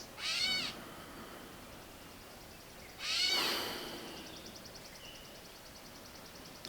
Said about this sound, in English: Some birds screaming behind me.